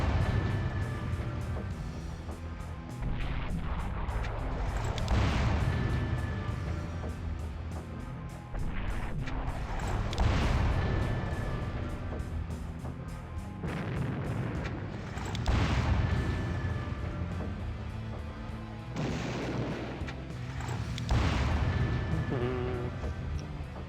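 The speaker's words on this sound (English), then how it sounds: "There's one unit we can fire at, so let's do that." Gunfire and artillery in the Warhammer strategy game Epic 40k, repeated booming blasts and rumbling explosions over a dense continuous battle din, loud and sustained.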